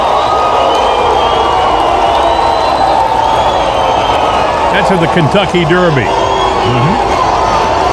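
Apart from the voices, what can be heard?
crowd cheering Trump at the Kentucky Derby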